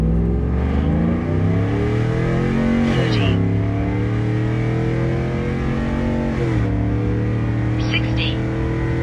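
A modified Chevrolet Silverado truck launches hard in a 0 to 60 run, its loud engine revving up through rising gear pulls with brief shift breaks, heard from close by with talk layered over it.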